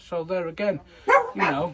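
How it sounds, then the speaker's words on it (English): Several dogs bark in repeated bursts close by, mixed with a man's speech over them. "excuse the dogs"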